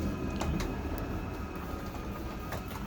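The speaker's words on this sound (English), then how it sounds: "Once you hear that ratcheting noise, that means the motor is completely out." A Jayco Jay Flight 32IBTS travel trailer's slide-out motor ratchets once fully extended, giving a steady mechanical whir broken by a few sharp, irregular clicks, with no talking.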